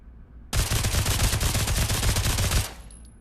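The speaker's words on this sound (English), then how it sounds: "So now, we have the Uzi." An Uzi submachine gun fires in the VR shooter game Pavlov: one loud, unbroken automatic burst of rapid shots lasting about two seconds, heard alone with no voices.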